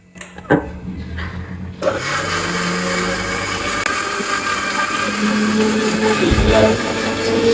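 After a few clicks and knocks, a kitchen mixer grinder whirs to life and runs loudly and steadily, its motor whine holding without pause.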